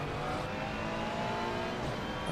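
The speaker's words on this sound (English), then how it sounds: "There's a car approaching." A race car approaches in Assetto Corsa Competizione during a Silverstone endurance race, engine droning steadily and loud from the in-car view with another car's engine blending in.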